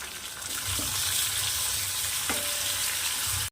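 Finely chopped tomato sautés with sprouted moong in a pan for a dry usal, giving a loud, even frying hiss up close with a couple of brief stirring knocks, ending abruptly.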